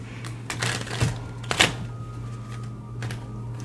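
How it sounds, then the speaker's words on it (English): A deck of playing cards being shuffled, brief riffling bursts with a few sharp snaps against a steady low hum, fairly close and moderately loud. "That did not shuffle well."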